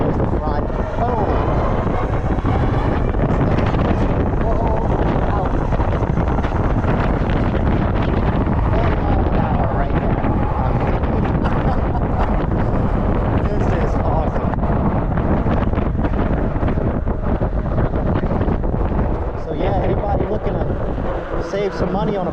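Heavy, constant wind roar buffets the microphone while riding a home-made e-bike powered by a 60V Predator wired cruiser kit, loud and unbroken throughout with little else audible.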